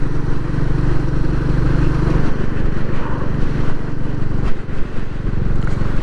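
A Royal Enfield 350 motorcycle engine runs steadily at idle with a deep, throaty exhaust burble, close and continuous throughout with no talk.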